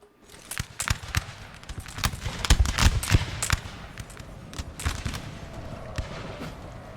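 Cinematic musket volleys and scattered gunfire crackle across a Napoleonic battlefield in the strategy game Napoleonic: Total War 3, with many sharp, uneven shots ringing out near and far.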